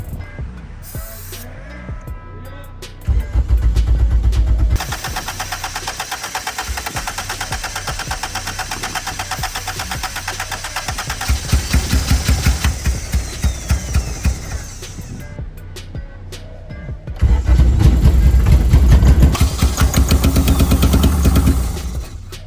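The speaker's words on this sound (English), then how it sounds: "I've heard it crank, but it's your shop. Let's crank it." A 1995 Acura Integra engine in a shop cranks over repeatedly, then catches and runs loudly and unevenly, with revs surging in bursts and briefly dropping before roaring again, close by.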